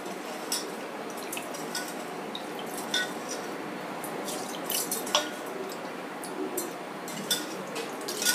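Rice is washed by hand in a bowl of water, with soft swishing, gritty rustling and scattered light clinks and drips, close and quiet with no talking.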